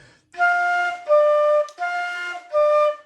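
A flute plays four sustained, steady notes of a simple pep band tune in a simple rhythm, clear and close, with short gaps between them.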